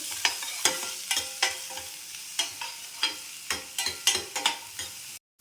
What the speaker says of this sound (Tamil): வெங்காயத்தை வணங்கிடுச்சுங்க. வெங்காயம் வணங்கிடுச்சு.